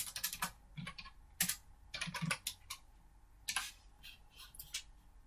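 Typing on a computer keyboard in short clattering bursts of key presses separated by brief pauses, close and fairly quiet with no voice.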